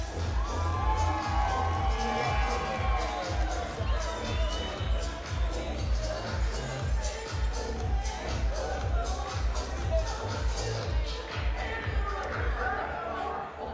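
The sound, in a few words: crowd applause for boxers after fight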